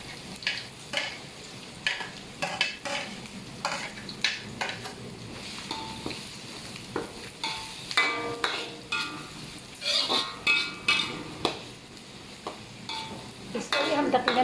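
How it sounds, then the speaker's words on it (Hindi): Garlic fries in a pan with okra while a utensil stirs and scrapes repeatedly, making irregular close clinks and scrapes over a continuous sizzle. "इसके बाद ही हम लहसुन डाल देंगे।"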